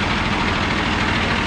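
A fire engine idles nearby with a dense, continuous low rumble and even mechanical churn, steady and loud throughout with no speech.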